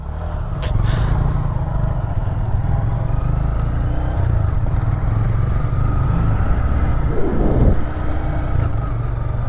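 A motorcycle passes while riding through Springfield, Missouri on a Honda Grom, its engine drone blending into steady wind and road noise, with a brief rising whine near the end.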